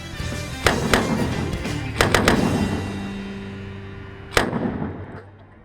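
Fast draw revolvers fire blanks at a UK competition as a series of sharp, loud bangs: one shot, a quick cluster of three, then a final one, ringing out over a steady outdoor background without talk.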